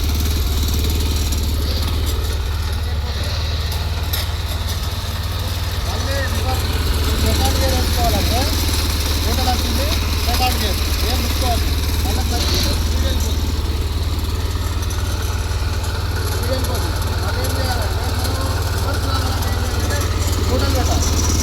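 A 7 hp power weeder engine idles in a steady, continuous low drone throughout, with someone speaking over it.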